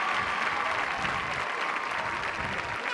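Both crowds at a high school football game, Troup versus LaGrange, applaud an injured player as he gets up, a steady, dense wash of clapping and crowd noise that holds loud throughout.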